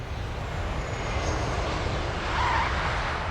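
At Heathrow Airport, a fixed-wing airplane on the runway gives off a steady, loud engine roar. It swells slightly toward the end, with no voices.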